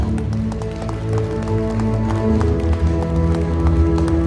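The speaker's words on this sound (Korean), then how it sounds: "여러분 다시 한번 뜨거운 박수 부탁드립니다" Applause from an audience at a Democratic Party rally in Jeonbuk, a steady, dense rattle of many hands clapping that carries on at an even level under music and speech.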